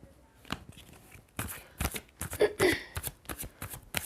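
Playing cards are shuffled in several quick riffling bursts, close and crisp, with no talking.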